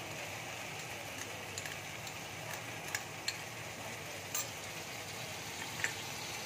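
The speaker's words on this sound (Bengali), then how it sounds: "এবার মশলাটাকে ভালো করে কষিয়ে নেব।" Spiced masala with yogurt and salt being sautéed in a pan for rui fish curry: a steady soft sizzle with scattered faint ticks and scrapes of stirring, no voices.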